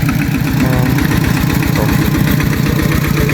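A loud, close diesel tractor engine chugs steadily at a low rhythmic idle, with a rattling vibration throughout.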